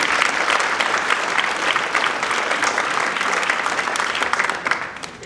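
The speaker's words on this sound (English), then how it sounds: "we'll give them a round of applause" A school band winter concert audience applauds staff members, giving a dense, steady wash of many hands clapping together that holds for several seconds before easing off.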